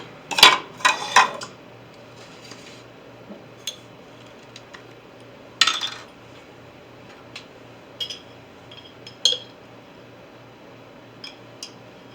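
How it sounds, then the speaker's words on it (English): Sugar poured and scraped into a mixing bowl for chocolate chip cookies, with a few sharp clinks and rattles of utensil against bowl, loudest at the start and then sparse, light taps spread across a quiet kitchen. "I'm combining all my sugar to the bowl"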